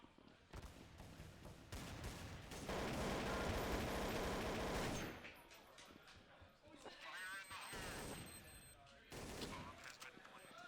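Dense bursts of AK rifle fire from a Counter-Strike: Source match on de_tuscan, a loud sustained fusillade of rapid overlapping shots in the middle, then scattered shorter volleys, with commentary voices talking over and between the bursts.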